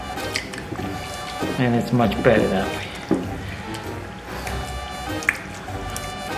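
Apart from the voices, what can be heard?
tomatoes being broken by hand for Neapolitan pizza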